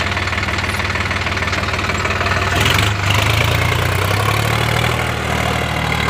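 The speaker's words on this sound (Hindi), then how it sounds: "इस बार ट्रैक्टर को हम 3 नंबर लो में देख खिंचवाइए" Sonalika DI 35 RX tractor engine pulling under load in third low gear, a loud, steady diesel drone with a knocking rhythm that swells slightly midway and continues throughout without talk.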